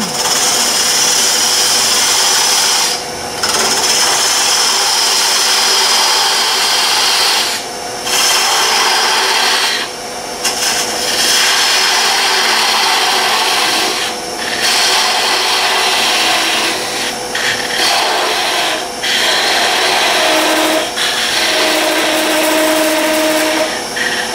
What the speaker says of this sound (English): I'll use my parting tool here, and I'm going to cut this off, part it off from the other one.